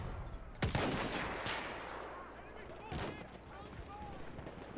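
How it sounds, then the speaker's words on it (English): Machine gun fire in the Battlefield 1 video game, heavy bursts and booming blasts over a rumbling battlefield din, with a couple of sharp loud shots standing out near and distant gunfire rattling behind. "Machine gun."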